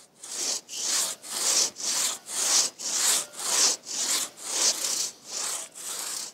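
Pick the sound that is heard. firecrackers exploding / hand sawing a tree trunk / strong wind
hand sawing a tree trunk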